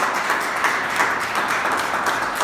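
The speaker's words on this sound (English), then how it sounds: "Let's give them a round of applause." A crowd at a city logo press event applauds, a steady wash of many hands clapping at moderate distance, continuous and unbroken with no voices over it.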